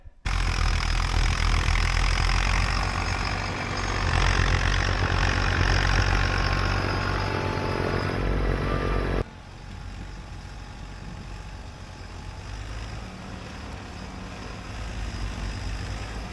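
A Kubota LX2610 compact tractor with a snow blower runs through heavy wet snow, its engine droning loud and steady, then dropping to a quieter, rougher hum partway through.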